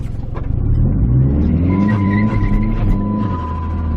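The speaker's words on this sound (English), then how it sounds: "Well, that was some wheel hop." Car accelerating hard on a wet road in second gear with wheel hop, a loud close engine rumble rising steadily for several seconds with a faint whine above it.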